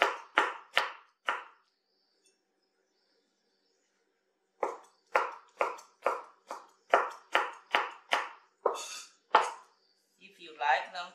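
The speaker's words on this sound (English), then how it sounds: "If you like them to be fine, you can chop it, do like this, to make them in smaller pieces." Knife chopping two garlic cloves on a cutting board while making a hearty winter soup: a run of four sharp, evenly spaced chops, a pause, then about a dozen more brisk close-up chops, with a brief clatter at the end.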